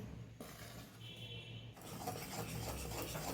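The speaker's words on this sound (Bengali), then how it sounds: "এবার খুব ভালো করে বেসনটাকে এর মধ্যে মিশিয়ে দেবো যতক্ষণ না একটা ডো হচ্ছে।" Roasted gram flour being stirred into a milk and sugar mixture for Beliatore-style mecha sandesh, a close scraping, rasping stir that grows steadier and fuller after a brief quieter stretch.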